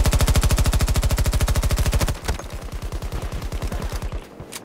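Rapid submachine gun fire in Battlefield 2042 on the Breakaway map, a fast even burst of loud shots for about two seconds, then a slightly quieter second burst following straight after, with no talking.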